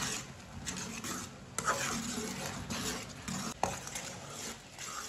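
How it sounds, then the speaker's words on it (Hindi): Raw mango chutney with turmeric cooks in a pan, giving a soft sizzle under repeated scraping strokes of a spoon stirring through it. "2 मिनट के लिए मैंने पका लिया, 2 मिनट और पका लेंगे इसे।"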